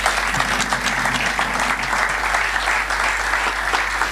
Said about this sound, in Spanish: les pediría que recibieran con un caluroso aplauso a nuestros dos invitados